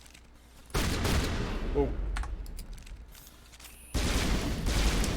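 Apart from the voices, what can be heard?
burst fire gunshots in video game Mass Effect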